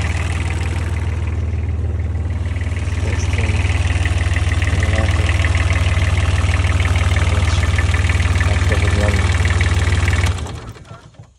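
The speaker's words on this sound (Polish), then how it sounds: "Silnik tu jest kubota." A Kubota diesel engine on a Hamm road roller idles loudly and close up, a steady low drone with a faint knocking texture that holds for about ten seconds before cutting off.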